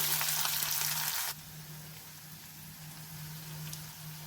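Dry red chillies and tamarind sautéing in a pan: a bright, dense sizzle for just over a second, then dropping to a quieter, softer crackle with a faint steady hum underneath.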